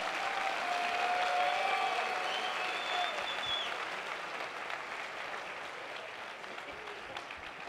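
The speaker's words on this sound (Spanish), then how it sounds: "Un aplauso, por favor, para Gema." Audience applause for a comedian at a live stand-up comedy show, a steady roar of clapping from a crowd that holds strong, then slowly thins and fades over several seconds.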